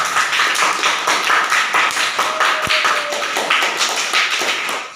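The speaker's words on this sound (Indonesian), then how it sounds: "Tepuk tangan untuk kelompok 3." Classroom students applauding a group presentation: steady, fairly loud clapping from many hands, a quick irregular patter that keeps going throughout, with one sharper thump in the middle.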